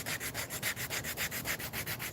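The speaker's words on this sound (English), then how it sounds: "I do not know if the spoon carving community frowns on sandpaper or not" A hand-carved wooden spoon is rubbed with sandpaper in quick, even back-and-forth strokes, about seven per second, close and fairly loud with a dry, rasping texture and nothing else heard.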